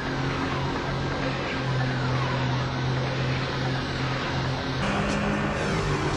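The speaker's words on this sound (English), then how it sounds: "each car has its own distinct engine sound" Car engine in the PlayStation racing game Need For Speed: High Stakes, a steady droning hum with sustained tonal bands that holds at an even, moderate level throughout.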